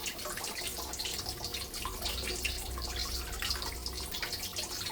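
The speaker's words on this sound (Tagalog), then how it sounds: "Kaya may tali guys yung aking gripo kasi para hindi sumisirit yung tubig at hindi mababasa yung nagbubugas." A kitchen tap, its spout tied with string to stop splashing, runs water steadily while fish is cleaned for daing; a continuous close hiss and splash with no pauses and no voices.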